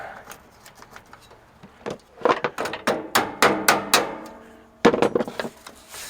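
Exhaust clamps being worked loose to take apart the muffler on a Kenworth K100 Aerodyne truck: sharp metallic knocks and clanks come in quick irregular bursts, loud and close, with a brief pause between flurries.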